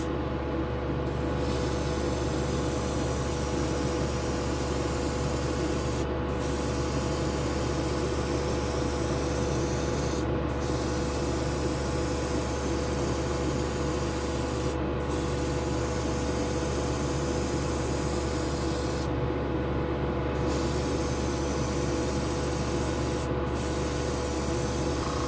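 Airbrush sprays Gaahleri Kaleido paint onto a model car in a heavier coat, giving a steady loud hiss throughout with a few short breaks where the spray stops.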